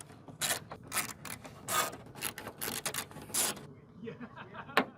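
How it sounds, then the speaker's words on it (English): Screws being worked out of a panel on a 68-year-old vintage museum airplane, with repeated gritty scraping and ratcheting strokes from a screwdriver, close and fairly quiet, ending with a sharp click. "Let's see if we can get all the screws out of this side this time."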